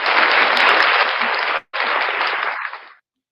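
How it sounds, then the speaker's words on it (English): Applause at a wellness talk on whole health rises as a dense, muffled clatter of clapping, breaks off sharply for a split second, resumes and then fades to silence. "please give a great round of applause as we bring Miss Harris Tracy on board"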